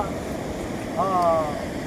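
A flooded Singarayipalli stream rushes past in a steady, close broadband roar, with a brief tonal voice-like sound rising over it midway.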